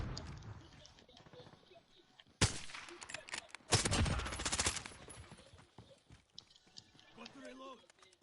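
Rapid bursts of video game gunfire crackle in two loud volleys lasting a few seconds, set against quieter game sounds before and after, with talk in the background.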